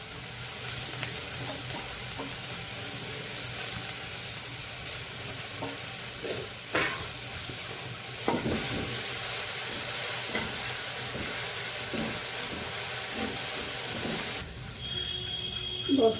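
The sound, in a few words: frying washed cabbage leaves in a pan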